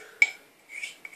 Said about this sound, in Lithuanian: Dar truputį pagramdom, kad visas gėris tilptų į puodelį naująjį